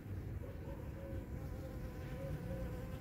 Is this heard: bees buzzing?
yes